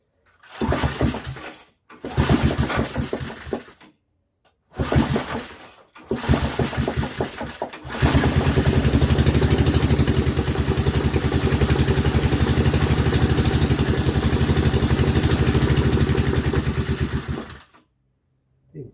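A small fuel engine hooked to an air compressor by an oversized pulley makes several short pulled starting bursts separated by silences. It then catches and runs loud and steady for about ten seconds before cutting off.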